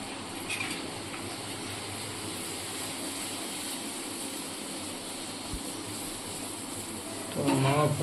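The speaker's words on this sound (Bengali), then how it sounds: "লুচি ভাজাও আমার প্রায় শেষের পথে।" Luchi, puffed flatbread, deep-fries in hot oil with a steady, even sizzling hiss throughout, and a voice speaks briefly at the very end.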